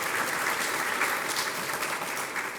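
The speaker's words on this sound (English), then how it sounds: "Can we please give the supervisor a round of applause?" A summit audience claps for a supervisor, a dense, steady wash of applause from many hands that holds at an even level throughout.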